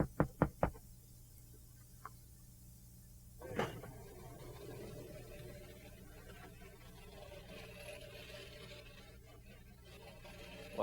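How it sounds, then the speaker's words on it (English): Three quick knocks on a garage door at a home in Kingsport, Tennessee, close and sharp at the start, with a fainter single knock after, then quiet background and light movement. "I'm gonna knock on the garage here"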